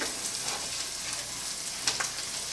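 Sweet potato leaves stir-frying in a pan on high heat: a steady, close, loud sizzle with a couple of brief scraping stirs near the end, no voices.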